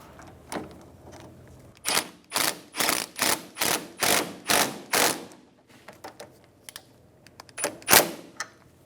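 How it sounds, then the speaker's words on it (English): A ratchet with an 18mm socket snugs down a new front sway bar link nut on a 2003-2007 Infiniti G35, making a run of about eight evenly spaced rasping clicks, then a few softer ones and a final sharp click. "We're going to start this bottom nut as well, and I'm going to snug it down."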